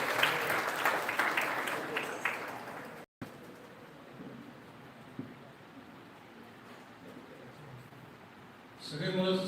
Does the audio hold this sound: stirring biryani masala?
no